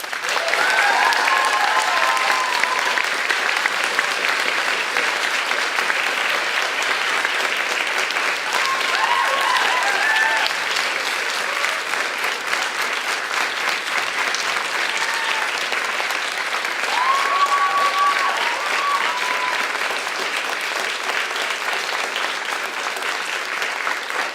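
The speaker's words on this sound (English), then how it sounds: "So please give them one more round of applause." At a school spring concert, the audience applauds warmly and continuously for over twenty seconds, with the dense, even clapping holding a steady level and a few faint voices or cheers coming through.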